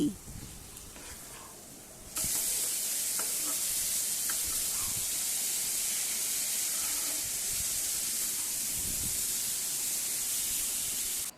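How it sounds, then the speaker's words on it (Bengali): Cumin powder stirred into masala sizzling in a pan for a ridge gourd and small fish curry: a quieter start with stirring scrapes, then a loud, steady, close hiss of frying fills the rest. "এখন এর মধ্যে দিয়ে দিচ্ছি এক চামচ জিরের গুঁড়ো একবার ভালো করে মিশিয়ে নিচ্ছি"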